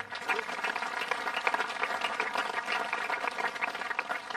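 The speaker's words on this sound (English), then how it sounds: "let's start again with a round of applause for the soldiers of the Ever Vigilant Brigade" Round of applause from the audience for soldiers of the Ever Vigilant Brigade at a military police brigade change of command ceremony, dense steady clapping of a sizeable crowd held at moderate level throughout.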